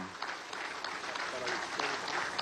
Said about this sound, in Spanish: Ha finalizado el minuto de aplauso